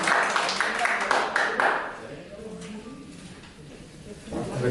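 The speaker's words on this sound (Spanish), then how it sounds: "Un aplauso." Applause from an audience at the close of a talk, dense clapping for about two seconds before fading into murmuring voices and scattered claps, with a brief swell again at the end.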